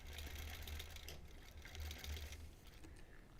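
A quilting machine stitches a Double Wedding Ring quilt topper freehand, giving a steady, fairly loud mechanical hum with a low motor drone that swells and eases slightly across the stretch.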